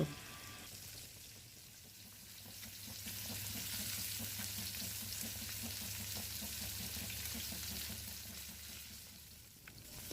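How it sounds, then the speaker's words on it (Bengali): Fish fries steadily in a hot pan, a continuous close sizzle with a soft crackling texture that swells in the middle and eases off near the end. "মাছের এই পাশ ওই পাশ উল্টিয়ে আমি এখন মাছটাকে ভেজে নিচ্ছি"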